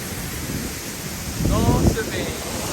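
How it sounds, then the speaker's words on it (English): Ceunant Mawr waterfall in Llanberis crashing down in a constant loud roar that fills the whole clip, with a brief swell of rushing water partway through. "look at the water crashing down"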